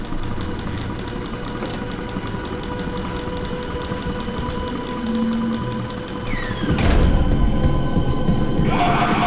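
A sewing machine running in Five Nights at Freddy's: Into the Pit, a steady mechanical whirr and rattle that continues throughout and grows louder and busier toward the end.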